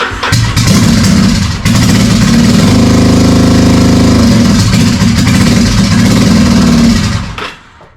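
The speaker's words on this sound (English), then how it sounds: "Can put the enricher circuit on and crank it." A Yamaha V-Star 1100 motorcycle cranks and runs roughly with its enricher circuit on, a loud, close engine chugging steadily for several seconds before cutting off near the end.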